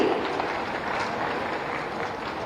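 A large audience at the Uttar Pradesh Day ceremony in Lucknow applauds continuously, a dense, steady wash of many hands clapping at full volume throughout.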